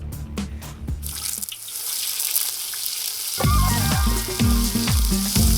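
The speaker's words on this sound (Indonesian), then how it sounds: "Kayak masak biasanya, bumbu ditumis sampai harum dan warnanya berubah kekuningan" Spice paste for a palm-heart curry sizzles in a pan, with a brief tap-water splash and clatter at the start, a steady frying hiss building through the middle, and sharp utensil knocks against the pan near the end.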